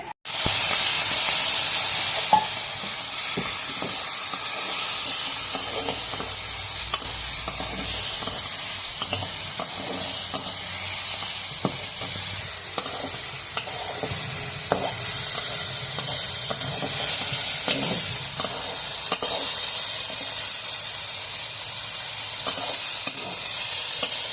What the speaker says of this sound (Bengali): কড়াইতে সরিষার তেল দিয়ে দিচ্ছি চিংড়ি মাছগুলো ভাজার জন্য